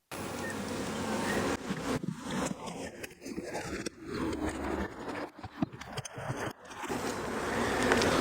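Honey bees buzz steadily around an open hive being inspected for brood and honey frames, a continuous close drone broken by brief scrapes and handling noises.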